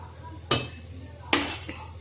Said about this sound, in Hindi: यहाँ मैंने डिनर के लिए यहाँ छौंक तैयार कर लिया और मैं छौंकूंगी इसमें कड़ी।